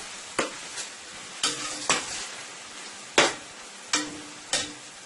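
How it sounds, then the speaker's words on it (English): Tomato paste fried in oil in a pan, a steady soft sizzle with repeated sharp stirring scrapes at irregular intervals, close by with no talking. "my tomato paste is frying up nicely there"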